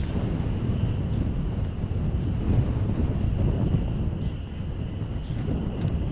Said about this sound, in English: everyone knows it's windy